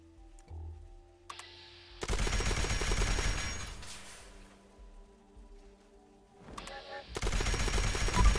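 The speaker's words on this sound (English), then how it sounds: "there's Scorched shooting at me" Scorched enemies in Fallout 76 on Xbox open fire, with loud, rapid bursts of gunfire that run for a couple of seconds, pause, then return in a second sustained volley.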